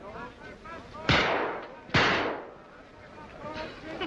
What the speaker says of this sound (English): That's nice shooting, mister.